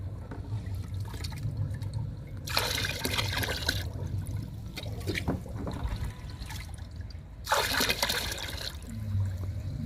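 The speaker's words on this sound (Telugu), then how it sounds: "అందుకని డైరెక్ట్గా పోసేస్తున్నాను వాటర్లో" Liquid fertilizer poured by mug into a 20-litre bucket of water makes two loud gushing splashes with a softer trickle between them, close by and with no talk.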